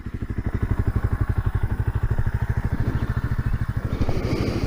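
A 1978 Kawasaki KL250 motorcycle, just fitted with a new carburetor, idles nearby with a steady, rapid single-cylinder thumping putter, loud and even throughout.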